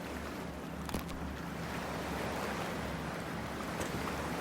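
Ocean waves and surf in the video game Cyberpunk 2077, a continuous broadband wash of water with a low rumble and wind, steady and moderately loud with a couple of brief splashy peaks.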